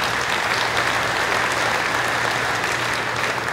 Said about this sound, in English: Let's give Wayne a round of applause